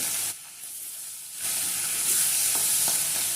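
Pieces of hilsa fish frying in a pan with oil, a loud steady sizzle that drops briefly then returns and carries on, with a few faint clinks near the end.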